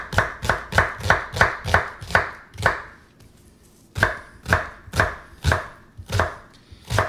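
Onion is cut to a medium chop with a knife on a board, sharp regular thuds in a quick even rhythm, a short pause, then another run of evenly spaced chops, close and loud.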